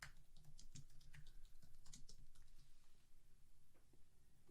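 Steady typing on a computer keyboard, a continuous run of close, fairly quiet key clicks with a few sharper taps, heard alone without any talking.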